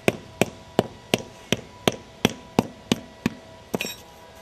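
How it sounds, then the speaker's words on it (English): Rubber mallet tapping brick patio pavers down into place, a steady series of about a dozen sharp, evenly spaced knocks, close and loud with no talking. "You always want to use a rubber mallet when you hit this."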